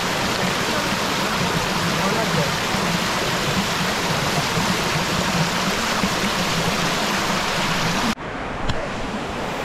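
Water rushing steadily at Turga Falls in Purulia, a waterfall feeding a stream, as a loud, continuous broadband roar up close that cuts off abruptly near the end, leaving quieter ambience.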